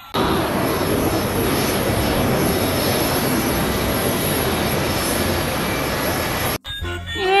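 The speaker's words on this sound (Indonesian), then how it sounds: "ini pesawat ulang-alik." A toy space shuttle plays a jet engine sound effect, a steady loud roaring whoosh that holds for several seconds and then cuts off abruptly, followed by a brief burst of other noise.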